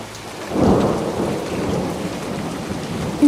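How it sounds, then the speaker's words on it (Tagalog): Steady rain falls with a deep rumble of thunder swelling early on, the downpour holding at a moderate level throughout with no voices. "sakto naman ang pag-ambon hanggang sa unti-unti nang bumabagsak ang ulan"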